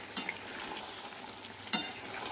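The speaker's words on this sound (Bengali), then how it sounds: "আমি চিকেনটা ভালো করে কষাতে লাগছি।" Chicken being stir-fried (kosha) in a pan gives a low, steady sizzle, with two brief utensil scrapes or clinks against the pan.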